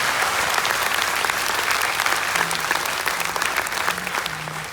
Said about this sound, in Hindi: जोरदार तालियां तो बनती है नहीं?